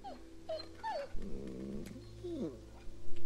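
A dog attacks in The Walking Dead Season 2 video game, with rising whimpering yips and a low growl over a steady background hum, fairly loud and without speech.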